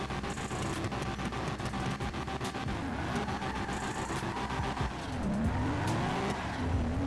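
A tuned 1000 HP Nissan Skyline R34 V-Spec GTR roars through the GTA 5 video game, its engine revving hard as its tires squeal and skid loudly and continuously, with no voices over it.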